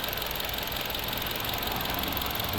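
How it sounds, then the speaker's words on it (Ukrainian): A 2012 Toyota Camry XV50 2.5-litre petrol engine with LPG conversion idles close by, an even mechanical rumble with a faint ticking texture and no change in pitch throughout. "Ось робота двигуна."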